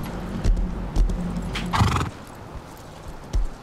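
A horse in the video game Rust lets out one loud whinny between scattered hoof clip-clops that land at an easy, uneven walking pace.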